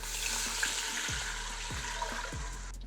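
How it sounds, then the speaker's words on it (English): Stock poured into a hot pot of sizzling pulled pork for Brunswick stew, a steady broadband hiss of frying and liquid running for about three seconds, with a few low thumps from the pot, close and fairly loud, no talking. "So now I'm going to add in some stock."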